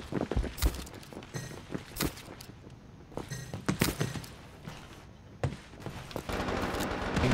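Shotgun blasts in the video game World War 3 during a Moscow team deathmatch, sharp irregular bangs spaced a second or so apart with footsteps and battle noise in between, no voices.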